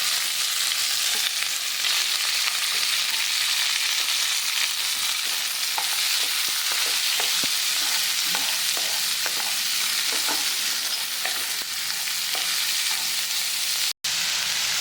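Onion sautéing in a pan with ginger, green chili and curry leaves for uttapam topping, a steady loud sizzle with scattered stirring scrapes throughout and no voices.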